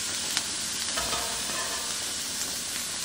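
Cheeseburger patties and onion sizzle steadily in a pan, a close continuous frying hiss with small pops and the faint scrape of a utensil.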